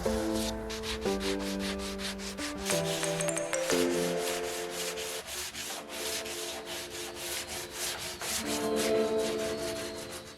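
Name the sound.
sanding wood tabletop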